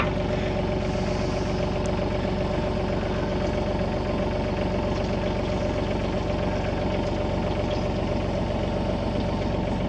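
A heavy tree-cutting machine's engine runs steadily and loudly as its saw head is lowered, a constant droning idle with a knocking undertone and no voices.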